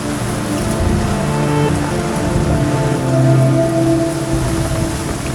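Heavy rain pours down on a Manila street in a steady, dense hiss that swells slightly midway, with no voices.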